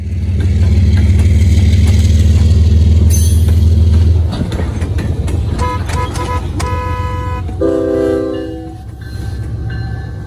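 A CSX ES40DC locomotive on a daily yard job, running long hood forward, idles with a loud low rumble that fades, followed by a string of short horn toots and then longer blasts in a rhythmic pattern.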